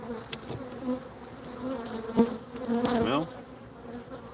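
Honeybees buzz at an open hive box, a continuous low hum with individual bees droning close past now and then, fairly quiet, with one brief word spoken.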